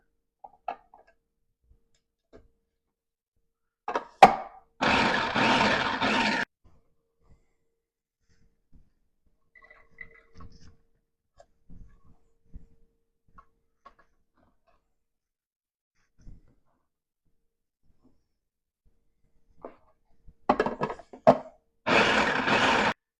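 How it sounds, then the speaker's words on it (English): A food processor chops fresh herbs in two short, loud whirring bursts. The first runs about a second and a half, the second comes near the end, with quiet handling clicks in between. "I'm going to go ahead and chop the herbs up in my food processor"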